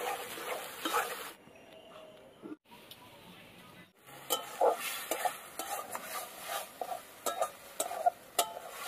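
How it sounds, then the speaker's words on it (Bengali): Spatula scraping and stirring rui fish through spices in a pan at home, with soft clinks and gentle sizzling in short irregular strokes, a brief quiet gap near the middle. "এটা একটু 1 মিনিট মতন ভালো করে একটু নেড়ে নিতে হবে"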